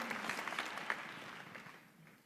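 Applause from a summit audience, a steady patter of many hands fading gradually toward the end.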